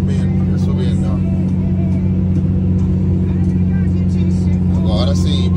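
Remapped VW Gol engine with its limiter removed revs up loudly as a steady, dense drone that holds throughout, close and continuous, with a person speaking over it.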